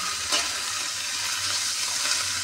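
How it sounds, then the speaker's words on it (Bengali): Greens being fried in a pan as shak bhaja hiss with a steady broadband sizzle, close and continuous, with a faint low hum underneath and a small clink near the start. "এই যে বন্ধুরা ভাজাটা হচ্ছে"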